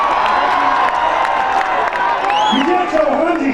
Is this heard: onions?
no